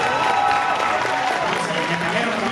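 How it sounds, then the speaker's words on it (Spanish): Audience at a comedy show in Mérida, Yucatán, applauding steadily, a continuous spread of claps with a voice and crowd noise mixed in. "Un aplauso para nuestro amigo el Metalero."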